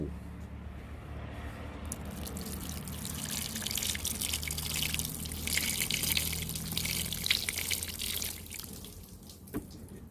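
Running water rinses feet after heels were scrubbed with toothpaste and lime, a steady splashing trickle heard close throughout with occasional drips.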